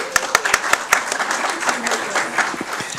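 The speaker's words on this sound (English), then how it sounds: "We'll go ahead and applaud" Audience applause at a board of education meeting welcoming the new Dean of Students of Central Primary School, sharp individual claps standing out from a moderate crowd clapping, with some talk mixed in.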